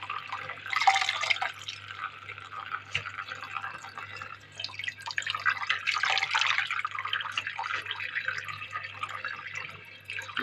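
Washed chard in a colander, water trickling and dripping in a steady, moderately close patter with some splashy swells, with no one talking.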